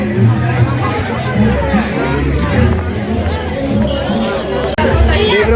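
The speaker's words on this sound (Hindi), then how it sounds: "यहाँ पे काफ़ी ना भीड़ हो रखी है, मस्त चहल पहल हो रखी है यहाँ पे" Bustling crowd at a Sunday fair market, dense close chatter and a mix of many voices, with a speaker talking over the hubbub.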